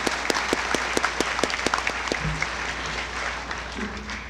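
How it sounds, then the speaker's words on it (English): At an eighth-grade awards program, a few distinct, separate claps quickly thicken into a softer, continuous wash of audience applause, moderately distant. "Can you please give Mr. Franceschini a big round of applause?"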